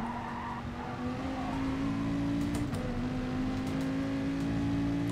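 A race car engine drones steadily in the GT Sport video game at Spa while braking straight into a hairpin, with a continuous loud tone that dips briefly in pitch as the car slows.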